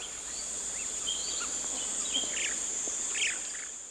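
Birdsong along the Seonbi Sansu trail on Gayasan mountain in spring, scattered chirps and short calls from several birds at a moderate distance over a constant high insect-like hiss, with no voices.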